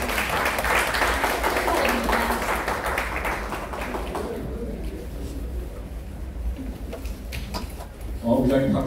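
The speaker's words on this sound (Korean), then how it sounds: "뜨거운 박수로 축하해 주시기 바랍니다." An audience at a Korean church organization's award ceremony held at the National Assembly bursts into loud sustained applause that thins midway, with scattered claps and a voice rising near the end.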